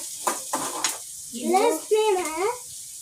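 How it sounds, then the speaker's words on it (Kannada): Onions and curry leaves sizzle in hot frying oil, a steady close hiss running through the short stretch, with a voice briefly heard over it. "ಕರಿಬೇವು ಹಾಕ್ಕೊಂಡು ಈರುಳ್ಳಿ ಹಾಕೋತೀನಿ"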